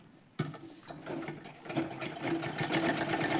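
A sewing machine starts abruptly and runs a straight line of stitches, its fast, even mechanical rattle growing steadier and slightly louder as it goes.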